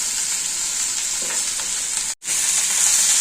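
Bitter gourd is stirred in a hot frying pan, giving a steady, close, loud sizzle and hiss that cuts out briefly near the end before resuming.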